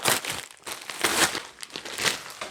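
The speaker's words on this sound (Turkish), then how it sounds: "Kutuyu kutusundan çıkaracağım ilk kez." A ViewSonic M1 Mini projector box slides out of its packaging, producing close, brisk crinkling and rustling of paper and plastic in uneven bursts without speech.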